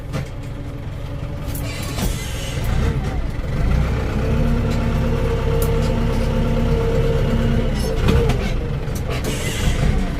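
A Ford 7740 tractor engine idles with a steady low rumble, running continuously throughout, with occasional clicks and knocks from nearby handling.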